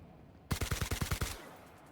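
A rapid burst of automatic gunfire from The Outer Worlds video game, about eight close, loud shots in quick succession lasting under a second, then a quiet tail.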